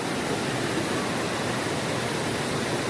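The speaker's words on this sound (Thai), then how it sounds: "น้ำตกตาดคู่" The Tat Khu waterfall in Laos gives off a steady, dense roar of falling water, loud and unbroken throughout with no voices over it.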